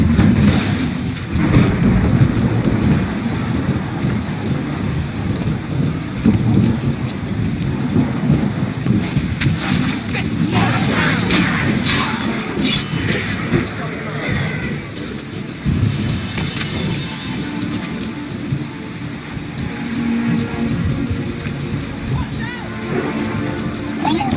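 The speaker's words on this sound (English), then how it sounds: "A magic explosion of some sort." A powerful magic explosion in The Witcher 3: Wild Hunt rolls out as a loud, sustained, thunder-like rumble with echoing crackles, heard alongside a character's voice.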